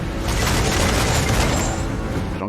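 Ship cannons fire in Assassin's Creed IV: Black Flag as a loud, dense barrage of booms that rolls into one sustained roar across the short burst, close and overpowering, with no voices over it.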